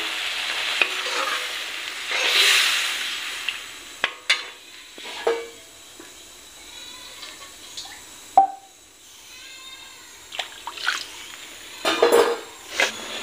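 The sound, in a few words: water added to dal cooking in a pan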